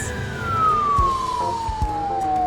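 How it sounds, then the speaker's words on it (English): A mini fire engine's siren approaches, a loud, steady tone sliding gradually lower in pitch as it draws near, over rumbling traffic and engine noise. "That is the cutest fire engine I've ever seen."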